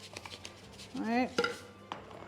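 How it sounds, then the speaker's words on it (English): Ripe breadfruit being mixed with salt by hand, soft close-up squelching and rubbing sounds in short bursts, with a few faint clicks and a brief louder smear in the middle. "just mix that together"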